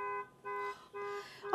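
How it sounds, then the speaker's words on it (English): A nearby alarm beeping in a repeating on-off pattern of bright electronic tones, three bursts and the start of a fourth, heard indoors on a quiet Saturday morning. "somebody's alarm going off."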